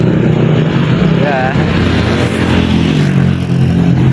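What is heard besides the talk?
many motorcycles riding past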